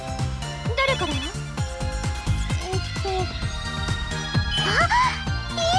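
In a video game, an N-Gear communication device rings with a bright, repeating electronic chime melody layered over music and chirpy sound effects.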